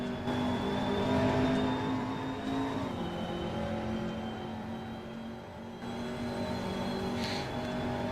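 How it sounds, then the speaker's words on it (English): Two McLaren race cars climbing a hill in a racing video game at a Russian Grand Prix, a sustained mid-level engine whine with shifting pitch and a brief dip as the revs change, no voices. "the 2 McLarens make their way up the hill."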